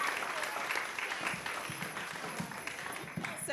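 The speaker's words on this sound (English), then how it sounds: "Give yourselves a round of applause" Applause fills a Unitarian Universalist Sunday service as the congregation claps together, a steady, fairly soft patter that carries on throughout.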